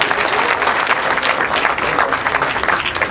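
A crowd at a national prize draw for a bank's schools deposit promotion breaks into sustained, vigorous applause, a thick wash of many hands clapping at a steady level throughout.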